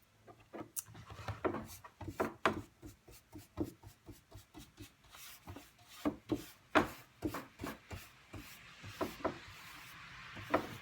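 White wax is worked with the grain into a chalk-painted wooden dresser: soft, close brushing and rubbing strokes come in an uneven rhythm, some quick and light and others firmer, quiet against a near-silent room.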